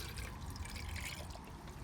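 Pool water from a saltwater pool with an Intex chlorinator and sand filter is poured into a cup. The stream gives a steady, soft, continuous trickle with no talk over it.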